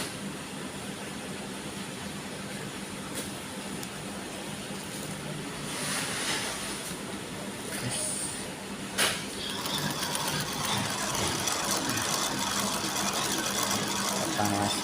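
A comforter quilting sewing machine with four-thread rotary setup runs to warm up, giving a steady mechanical whir with faint rattling, picking up and intensifying partway through, heard alone without talk.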